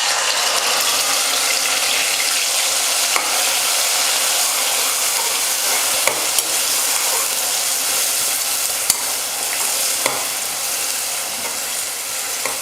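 Coarsely ground onion paste fries in hot oil with a loud, continuous hissing sizzle that holds steady throughout, broken only by a few faint clicks, close up with no speech.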